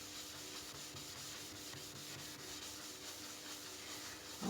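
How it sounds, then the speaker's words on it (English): A sponge scrubber rubs back and forth on the burned-in glass of a wood burner, a steady, rapid scratchy scouring at close range, quiet and continuous. "So it takes a lot of scrubbing."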